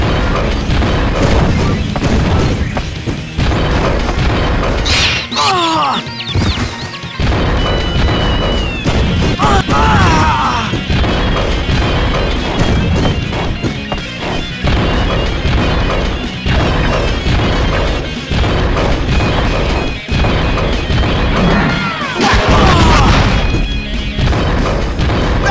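Robot enemies take repeated blows to the head in the 2003 Teenage Mutant Ninja Turtles video game, with loud smashing, thwacking hits and booming crashes over continuous game music and effects, plus occasional character voices.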